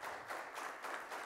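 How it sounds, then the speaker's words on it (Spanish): Short burst of applause from a gathering welcoming Chile's new Minister of the Environment, Javier Naranjo, at a swearing-in ceremony; steady, moderately loud clapping in uneven pulses with no talk over it. "Aplauso al nuevo ministro"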